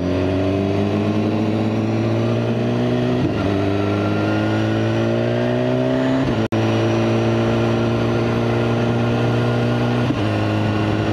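A BMW S1000RR motorcycle engine climbs in steady rising pulls through several gears, each surge ending in a brief dip before it builds again; the drone is loud and close.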